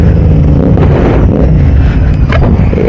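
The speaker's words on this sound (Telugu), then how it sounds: "అబ్బా ఏం ట్రాఫిక్ రా బాబు" Night road traffic in Hyderabad, heard from aboard a GT650 motorcycle: a loud, continuous rumble of engines and road noise, dense and steady from start to finish with no voices.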